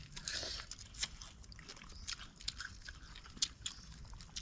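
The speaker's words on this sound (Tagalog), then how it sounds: "Unang kagat. Tara." Someone takes a first bite of food and chews, with soft, irregular crunches and mouth sounds heard faintly up close.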